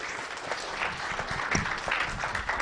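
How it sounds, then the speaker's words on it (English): Warm audience applause greets a speaker at an electricity transmission research conference, a dense patter of clapping at moderate loudness with a few brief voices under it. "a warm, hearty applause for Dr. John Mativo"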